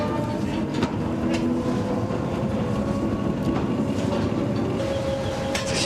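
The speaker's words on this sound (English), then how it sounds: "the miners board a train that travels a further 4 miles into the dark" An underground mine train carries miners deep beneath the surface, rumbling steadily and loudly with a continuous roar, rhythmic rattling and faint metallic squeals echoing in the tunnel.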